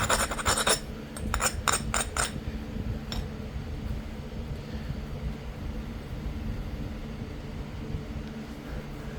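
The edge of a mookaite flint point is ground, a sequence of sharp stone-on-stone scrapes and clicks in quick bursts early on, then a softer steady rasping close by, with no voices.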